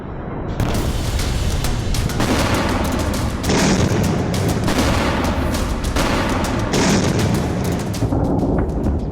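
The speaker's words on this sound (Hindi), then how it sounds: "सुना आपने, तेहरान में हो रहे ये धमाके दुनिया को खौफजदा कर रहे हैं।" Heavy blasts and booms of explosions in Tehran roll continuously, dense and loud, with sharp cracks layered over a constant deep rumble.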